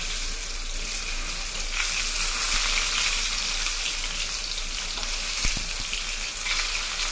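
Food deep-frying in oil in a cramped galley aboard a cargo boat, a steady hissing sizzle running throughout at moderate level with small clinks and stirring, no talk.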